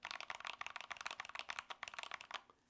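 Rapid, steady keystrokes on a stock Epomaker TH66 mechanical keyboard, a dense clacking patter of many individual key presses at close range with no voices.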